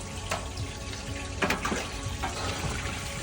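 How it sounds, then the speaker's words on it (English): Water drains through a siphon out of a reptile pond, a steady close trickling and gurgling flow with a few brief splashy surges and no voices. "Got all 3 ponds draining"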